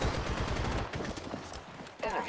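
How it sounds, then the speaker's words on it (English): Rapid gunfire in the video game Apex Legends, loud and dense bursts of shots that crowd the short clip, with a voice speaking over it. "Opening fire on the enemy."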